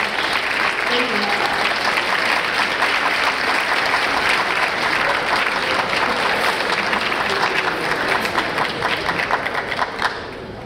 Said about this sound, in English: and the Color Purple cast another round of applause.